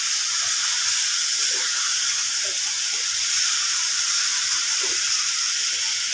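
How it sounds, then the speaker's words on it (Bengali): Potatoes frying in a spice masala for a Bengali rui fish and potato curry give a loud, steady hiss and sizzle throughout, with faint clinks of stirring and no speech. "আলুগুলো একটুখানি ভাজা ভাজা করে নিলাম।"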